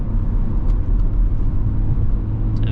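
A BMW 525d, a 218 hp car, accelerates at full throttle in Eco Pro mode, heard from inside as a steady, loud low engine drone and road rumble with no talk.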